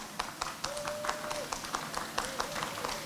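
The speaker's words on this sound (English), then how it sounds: "Please give him applause." Sparse, fairly quiet clapping from a small audience at a moderated forum on health services during disasters and pandemics, welcoming a speaker, with a faint steady tone in the background.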